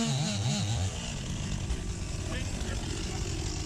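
STIHL MS 261 chainsaw engine droning steadily at abnormally high revs, rising and wavering near the start, then holding a strained, buzzing whine while cutting wood.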